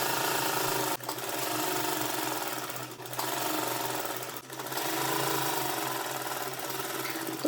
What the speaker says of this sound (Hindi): तो सबसे पहले मैं इसके गले के चारों तरफ एक पैर का मार्जिन देते हुए सिलाई लगाऊंगी